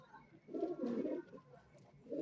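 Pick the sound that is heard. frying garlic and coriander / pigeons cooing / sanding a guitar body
pigeons cooing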